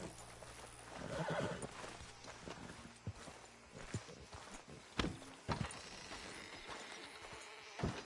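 A video game horse (Red Dead) neighs and snorts up close, with hooves clopping on the ground and buzzing insects faintly in the background, no talking.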